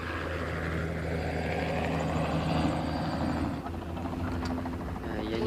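A helicopter supplied by the Chinese army flies over the Darim River region, its rotor and engine a continuous close drone throughout.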